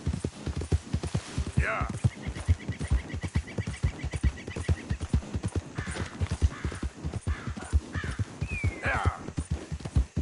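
Hooves clip-clop in a brisk, even trot, close and rhythmic throughout, with a voice briefly speaking and a whinny-like cry rising over the beat.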